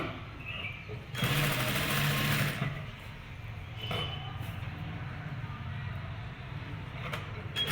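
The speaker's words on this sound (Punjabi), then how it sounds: "ਇਹ ਜਿਹੜੀ ਮਸ਼ੀਨ ਹੈ ਇਹ ਗੋਟਾ ਪੱਤੀ ਬਹੁਤ ਜ਼ਿਆਦਾ ਫਿਨਿਸ਼ਿੰਗ ਦੇ ਨਾਲ ਲਾਉਂਦੀ ਹੈਗੀ" A sewing machine stitches gota patti trim in a boutique, giving a brief loud whirring run followed by a quieter mechanical hum with a few soft clinks.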